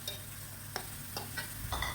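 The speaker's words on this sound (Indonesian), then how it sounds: "Saya masukkan dan diaduk-aduk." Diced tomato and spice paste frying in a pan for nasi kebuli, stirred with a few soft scrapes over a quiet, steady sizzle, heard close but faint, with no voices.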